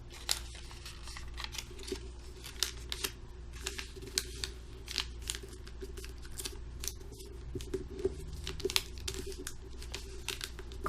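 Paper is folded and creased into an origami flapping-wing crane, producing a continuous run of close, quiet crinkles, rustles and sharp crisp creasing snaps without talk.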